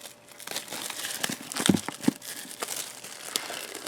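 Packaging of the Trails of Cold Steel Lionheart Edition box is opened, giving close crinkling and crumpling of plastic and cardboard with a few sharper tearing snaps in the middle, no one speaking.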